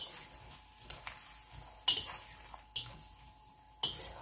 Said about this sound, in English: Now we're gonna give it a good mix.